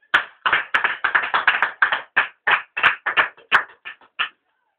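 A church congregation applauding, claps arriving in a dozen distinct bursts grouped irregularly over a few seconds, close and loud, then stopping abruptly into silence.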